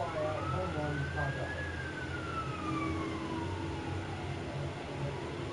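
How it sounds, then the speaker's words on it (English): A fire truck siren wails as it passes outside a house, its rising and falling tone heard faintly through a closed window over a steady indoor background hum. "There goes the fire truck past my house."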